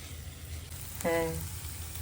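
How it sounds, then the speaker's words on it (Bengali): Onions fry in a pan for pav bhaji, giving a steady low hiss with a brief voice-like tone partway through. "পেঁয়াজ ভাজা হয়ে গেছে"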